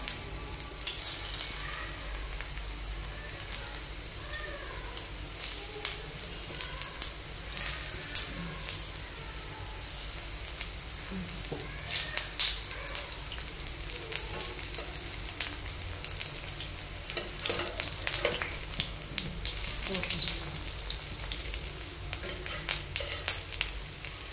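Alu vadi, colocasia-leaf rolls, shallow-frying in a little oil over a low flame, giving a steady close crackling sizzle with occasional sharper pops, running alone without talk.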